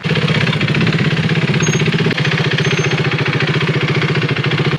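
A KTM Duke 390 motorcycle engine runs steadily and close by. It gives a loud, continuous, fast thumping throb throughout, with a brief dip in the middle before the same even rhythm resumes.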